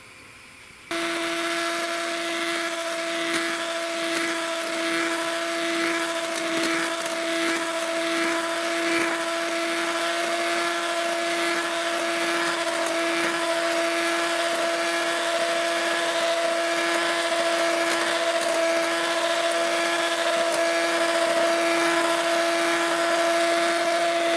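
An electric hand mixer whips eggs in a pot set over a second pot as a steam bath, a loud steady high-pitched whine starting abruptly and running continuously, alone without talk.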